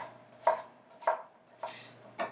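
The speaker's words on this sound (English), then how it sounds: "And then just go down the line into bite-sized pieces." A knife chopping vegetables into bite-sized pieces on a board, four distinct close chops spaced about half a second apart, crisp and alone, with no speech.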